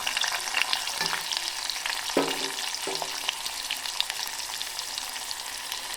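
Sliced onions fry in hot oil for masala rice, a steady sizzle with a few stirring scrapes and clinks of a utensil against the pan.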